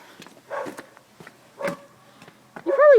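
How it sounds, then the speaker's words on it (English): Several dogs on a farm bark and yap in short scattered bursts, moderately loud and somewhat distant, ending in a sharper whining yelp. "Wow, those dogs are yappy."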